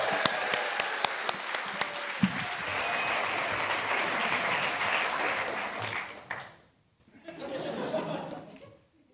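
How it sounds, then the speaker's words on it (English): Audience applause for Irving Finkel fills a comedy-lecture hall, a dense sustained wash of clapping with scattered chuckles and laughter, fading out near the end before a brief second swell. "Will you please give a massive round of applause to Irving Finkel?"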